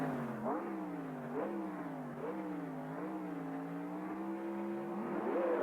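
A race car in a racing video game holds a steady engine drone and repeatedly revs up and down through gear shifts, sounding close and continuous.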